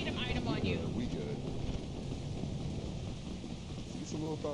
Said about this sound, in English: A little thunder.